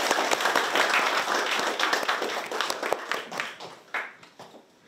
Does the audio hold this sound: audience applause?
yes